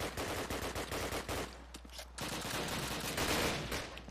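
Rapid gunfire in the Call of Duty 1 video game, dense bursts of automatic shots crackling in quick succession over a steady low hum, with a brief lull midway before firing resumes.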